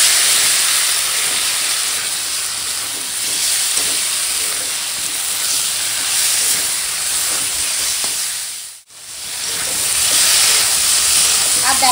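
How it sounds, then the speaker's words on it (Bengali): Prawns with potato, turmeric, dry red chilli and Kashmiri chilli powder fry in a hot pan, giving a loud, close, continuous sizzling hiss that drops out for a split second near the end before resuming. "দিয়ে এখন ভালো করে কষাবো।"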